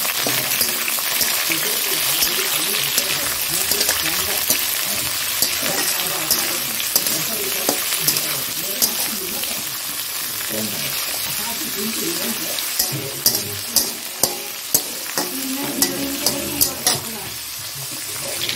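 Potatoes, vegetable stems, green chillies and tomato fry in a pan, a steady crackling sizzle with stirring scrapes and clinks throughout, close and fairly loud.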